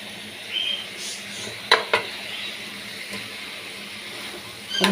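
Two or three fish frying in a pan with mustard for a home Sunday lunch, a soft steady sizzle with a few sharp utensil clinks, faint and close.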